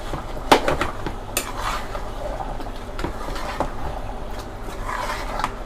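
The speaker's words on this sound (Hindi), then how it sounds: "इसमें हम शामिल कर रहे हैं दही। अभी इसको मिक्स करेंगे।" Yogurt is stirred into masala in a pot for mutton biryani, with a spoon clinking and knocking against the metal rim, a sharp clang near the start, and scraping stirs over a low background hum.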